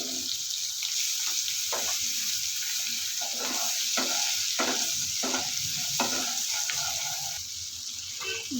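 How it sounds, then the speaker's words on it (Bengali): Prawns coated with garlic paste fry in a pan, giving a steady close sizzle and hiss broken by repeated clinks and scrapes of stirring, with no voices. "চিংড়ি মাছগুলো একটু ভাজা ভাজা করে নেব"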